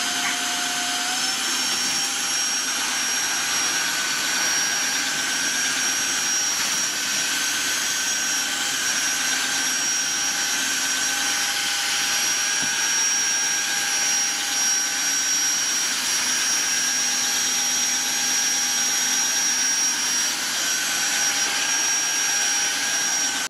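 Tineco Floor One S3 cordless wet-dry floor cleaner running steadily for the whole stretch, a loud constant motor whine with a high tone and a slight pitch shift near the start, alone without talk.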